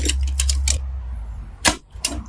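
A machine gun's charging handle is worked by hand: sharp metallic clacks and sliding rattles, several crisp strikes in a quick cluster, then two more distinct clicks after a short pause, close and loud with no talking.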